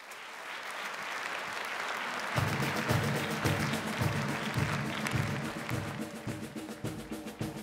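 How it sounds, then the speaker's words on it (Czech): Audience applause welcoming the finalists of the Miss Academia 2013 beauty pageant at a gala evening, beginning as a quieter crowd murmur and then swelling into sustained clapping, with rhythmic music thumping underneath. "Prosím, přivítejte potleskem znovu 10 finalistek Miss Akademia"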